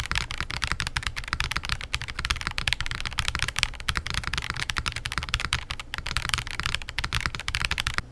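Continuous rapid typing clacks on a Zoom75 TIGA mechanical keyboard in a top mount configuration, a dense, even flurry of keystrokes heard close and on their own, with no talking.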